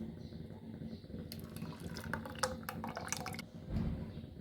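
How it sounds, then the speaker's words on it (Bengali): Blended date mixture poured into 250 ml of hot milk in a pot on the stove: a close splashing, trickling pour lasting a couple of seconds, then a brief low gurgle, with no speech. "এবার গরম দুধে ব্লেন্ড করা উপকরণগুলো মিশিয়ে দিচ্ছি।"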